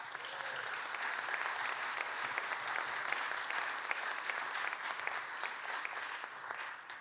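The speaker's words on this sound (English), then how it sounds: "Let's give it a round of applause." An audience at an International Jazz Day celebration in Chicago applauds steadily, a dense, even wash of many hands clapping that holds at constant loudness throughout without any voices over it.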